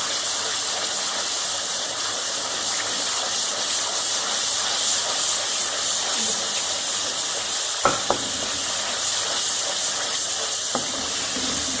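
Yogurt and spices frying in a pan for bhuni moong dal, a loud, continuous sizzle and hiss close up, with a couple of sharp knocks of a utensil against the pan partway through.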